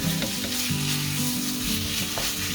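Chicken and onion stir-frying in a hot wok, a steady loud sizzle with scraping stir strokes and clattering spatula hits throughout, no voices.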